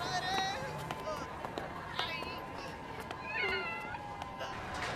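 A cat meows several times, high and wavering, over busy background clatter and voices in an animated Hindi-dubbed scene.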